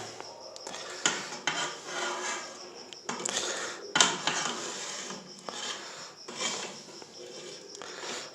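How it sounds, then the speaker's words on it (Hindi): Fish curry being served from a pan, with scattered scraping and rubbing of a utensil against metal in irregular close strokes. "अब करेंगे अपनी फ़िश को डिश आउट"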